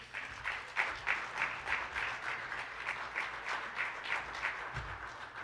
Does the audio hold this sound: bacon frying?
no